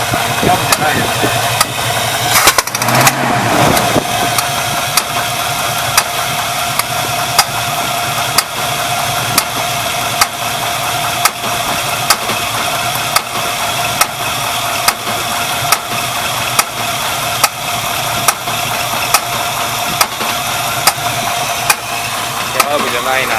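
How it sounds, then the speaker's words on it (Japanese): A 1973 Pontiac Trans Am with a 455 engine idles steadily and close by, with a faint regular ticking knock through the run. A burst of revving or handling noise comes near the start, and a voice may be faintly present. "エンジンがね、こうやって安定してくるとね、こっち側でなんていうか、カンカンって音はね、なくなったと思います"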